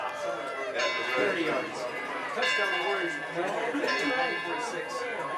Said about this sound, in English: They're ringing the bell